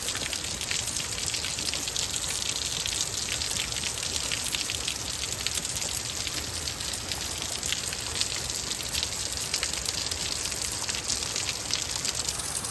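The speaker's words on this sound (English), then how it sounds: "As I said, it is pouring outside." Heavy rain pours steadily outside, a dense continuous hiss of drops hitting the ground, constant and loud throughout with no talking.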